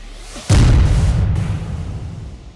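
A bombing explosion in war footage from Syria: a sudden loud, deep boom hits after a quiet moment, followed by a long rumbling roar that slowly fades.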